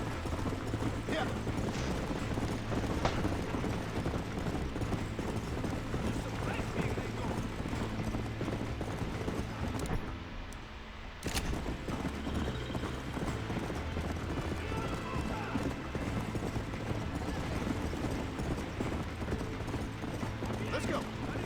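Steady clip-clop of horse hooves in Red Dead Redemption throughout, layered with game music and ambient noise, with a brief drop-out in the middle.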